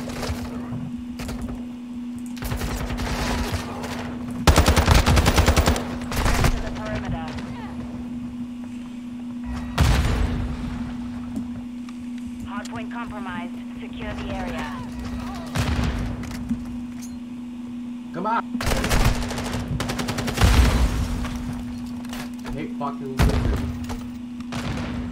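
Gunfire and grenade blasts in a Call of Duty Modern Warfare 2 ranked Hardpoint match: repeated loud bursts of shots and heavy thumps, clustered in several volleys under near-constant voice chat.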